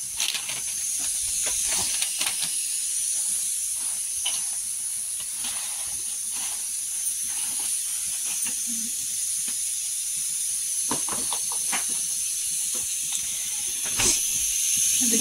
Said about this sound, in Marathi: कांदा भाजून झालेला आहे.